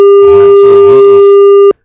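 A steady telephone dial tone sounds loudly and continuously for almost two seconds, cut off abruptly at the end, with a voice faintly audible underneath.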